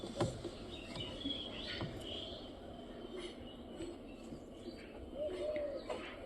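Pigeons cooing softly and intermittently at moderate distance, low throaty coos over a light background murmur, no clear talk.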